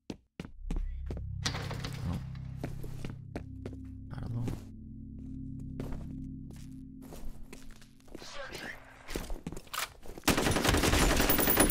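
Gunfire in the F.E.A.R. video game: a string of sharp, separate shots with short gaps over a low droning hum, ending in a dense, loud burst of firing and crashing noise.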